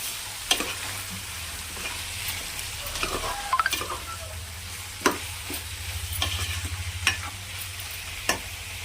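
Onions sizzle in hot oil in a pan for a village-style fish curry, a steady close frying hiss broken by occasional sharp pops and stirring scrapes.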